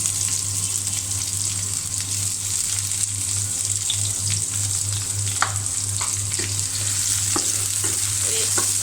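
Chopped onion and garlic fry with a bay leaf in hot oil, a steady loud sizzle continuing throughout with occasional small pops and scrapes, no talking.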